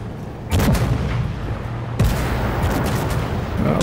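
Two heavy booming blasts of self-propelled howitzer fire in a video game, about a second and a half apart, each followed by a long rumbling tail and steady low engine drone throughout.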